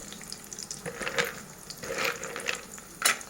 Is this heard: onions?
yes